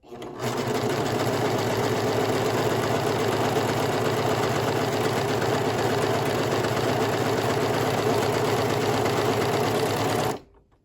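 A coverstitch sewing machine runs steadily while stitching a narrow cover stitch on fabric, a close, continuous, even mechanical whirr for about ten seconds before stopping abruptly.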